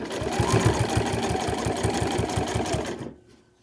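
A sewing machine runs at a steady, rapid stitching rhythm for about three seconds, then stops abruptly.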